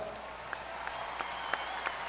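An audience at an Odyssey of the Mind opening ceremony applauds in a steady patter of many hands, fairly far and moderate in level, with a few sharper claps standing out.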